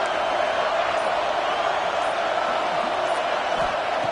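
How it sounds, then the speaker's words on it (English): A football stadium crowd makes a constant, wall-like roar of noise during a playoff game as the home defense faces a red zone stand, steady and loud throughout. "This crowd is trying to inspire this defense to make a big red zone stop."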